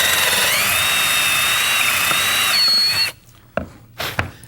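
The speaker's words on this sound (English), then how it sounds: "we're going to go up to almost a 3/8 inch bit here and bore this out" A power drill bores out a stripped lag-screw hole with a bit of nearly 3/8 inch, a loud steady whine lasting about three seconds before it stops, followed by a few faint knocks.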